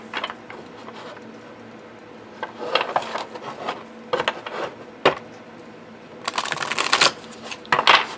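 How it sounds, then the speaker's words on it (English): Large El Goliath tarot cards being side shuffled by hand, with several bursts of crisp riffling and flicking separated by quiet pauses, close and clear. "I find it's actually easier to side shuffle these than it is to overhand"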